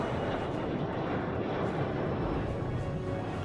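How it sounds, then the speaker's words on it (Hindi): An airplane on its takeoff run from a runway roars with a dense, steady broadband engine noise that stays loud and close throughout, with no voices heard. "clear for takeoff."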